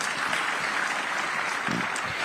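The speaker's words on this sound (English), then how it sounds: "Big round of applause for him" Audience applauding at the Rising Bharat Summit 2025 after a speaker's introduction, a dense and steady wash of clapping from a large hall lasting a couple of seconds, with no voices over it.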